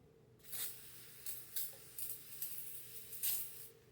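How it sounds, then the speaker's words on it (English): Short hissing bursts from a hand spray bottle misting water onto linens during ironing, about five quick squirts spaced irregularly, close and fairly soft over a quiet room. "Oh, it's all on my legs. I'm spraying everywhere."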